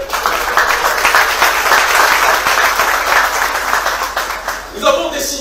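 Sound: audience applause at rally

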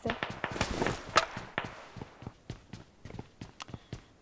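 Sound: footsteps in a video game

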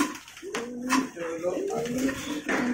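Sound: Lahori pigeons cooing

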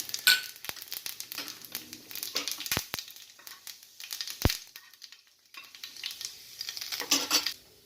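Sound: dried red chili and panch phoron added to hot oil

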